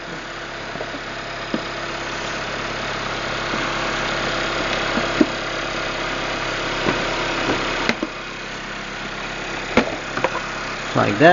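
A car's engine idles steadily under the open hood with its intake exposed during repair work, a constant mid-pitched rumble with occasional knocks and clicks, while someone speaks briefly nearby.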